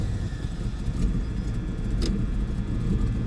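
A 1979 Pontiac Trans Am WS6 engine running with a steady low rumble, loud and close, holding an even idle with a brief higher click near the middle.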